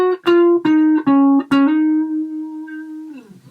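Electric guitar solo phrase in the style of a rock song: a few quick picked notes, then a long sustained bent note that rings out and fades, played alone and up close.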